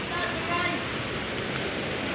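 Broadband rushing of high floodwater flowing near a bridge, steady and loud throughout with no breaks.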